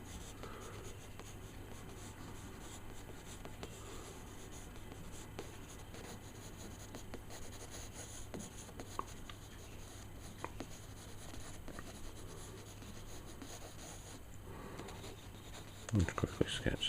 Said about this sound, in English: I'll just quickly sketch them in.